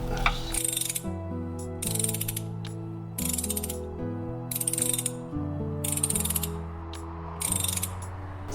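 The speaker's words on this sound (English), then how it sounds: "we're taking the bolts out of the starter here" Ratchet wrench backing out starter bolts during a clutch teardown, giving six short bursts of rapid clicking ratchet pawl strokes separated by brief pauses, close and clear.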